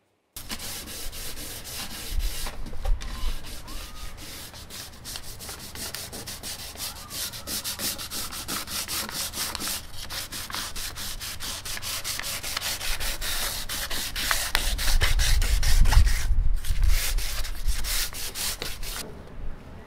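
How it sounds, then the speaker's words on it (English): A Weber Q grill lid is sanded by hand with 220 grit sandpaper, a continuous close scratchy rubbing with steady back-and-forth strokes for nearly twenty seconds. "So you should be able to just sand this by hand. I have a 220 grit sandpaper."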